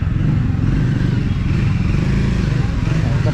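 Motorcycle traffic on a crowded road near a temple during a festival fair, with a steady close engine rumble and clatter throughout; a voice talks over it.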